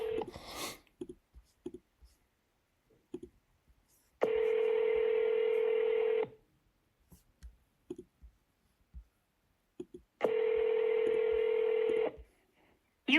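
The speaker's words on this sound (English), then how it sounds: "Let me call her back, and I'll put it on speaker so y'all can hear." A phone call on speakerphone: rapid DTMF keypad dialing tones, then two long electronic ring tones separated by a pause, with soft clicks between.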